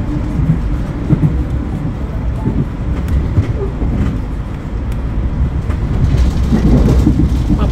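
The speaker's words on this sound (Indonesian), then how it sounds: "Papasan kereta Sembrani Surabaya Pasar Turi Gambir." A passenger train rumbles past the Sembrani train (Surabaya Pasar Turi–Gambir) up close, with a heavy low roar and rattling that swells louder toward the end.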